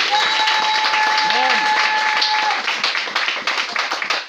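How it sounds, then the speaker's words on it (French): A church congregation bursts into loud, dense applause and cheering during a sermon, sustained clapping filling the space with a brief tonal voice or whistle riding over it early on. "Acclame très fort pour la parole de Dieu."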